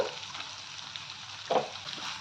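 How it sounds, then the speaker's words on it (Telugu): Ginger garlic paste and turmeric sizzle softly in hot oil for a cabbage capsicum curry, a faint steady crackle with a brief louder stir midway. "ఇది కూడా మంచిగా నూనెలో వేగిపోవాలి. పసుపు వేసుకుందామండి."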